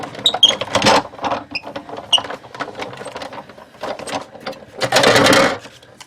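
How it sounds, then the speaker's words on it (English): A die cut machine presses paper for Thanksgiving place cards, giving close mechanical creaks, clicks and rolling grinding, with a louder rumbling pass near the end. "run that through your die cut machine"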